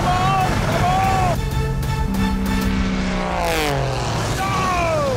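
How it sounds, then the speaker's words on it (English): Propeller plane racing past at speed at Cotswold airport alongside a Lamborghini, a loud droning engine whose pitch sweeps downward as it passes, with excited talking throughout. "Did we just get beaten by a plane?"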